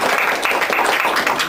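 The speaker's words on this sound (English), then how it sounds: "You want to clap for him?" A live theater audience claps for a stage show's director, brisk continuous applause close and loud throughout the short burst.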